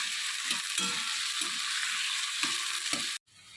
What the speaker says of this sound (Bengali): আলুটা একটুখানি ভাজা ভাজা একটু জাস্ট ভাজা ভাজা হোক তারপর কপিটা দিয়ে দেবে